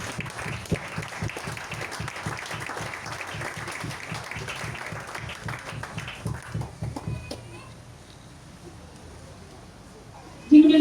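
Congregation clapping rhythmically to acclaim Jesus during a church service, steady in-time claps for several seconds that then thin out and fade into quieter room sound.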